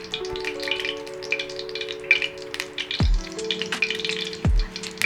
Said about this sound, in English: the sizzle from the egg, the sizzle from the meat, the sizzle from the oil